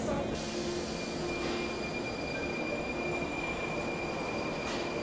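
A Prague metro train runs with a loud, steady roar of wheels on rail, with high metallic squealing tones held throughout. The sound is close and continuous, heard from the underground line.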